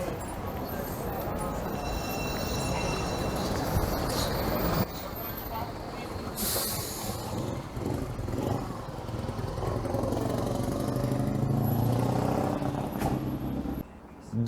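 A moped passes on a city street in Lviv amid continuous traffic noise, its engine buzz mixed with other passing vehicles and brief bursts of louder road sound, while people talk nearby.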